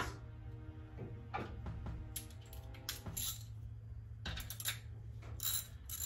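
A ratchet wrench loosens the front engine plate bolts on a small block Mopar V8 during water pump replacement, producing close bursts of rapid clicking with short pauses and faint metallic handling in between.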